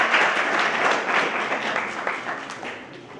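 An audience at a student science debate event applauds the second responders, a dense, moderately loud round of clapping that gradually tapers toward the end.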